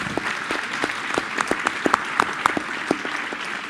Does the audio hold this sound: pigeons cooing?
no